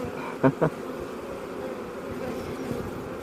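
An enormous honey bee colony buzzes during a hive inspection as frames are handled, a steady low drone of many bees throughout, with two brief louder knocks early on and no speech.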